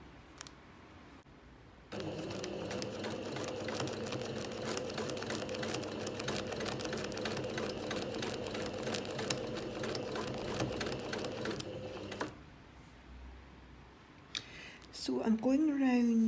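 A sewing machine stitches a zigzag appliqué of lace onto a garment to cover a stain, running in a steady rapid clatter for about ten seconds between quiet stretches, with a voice briefly heard near the end.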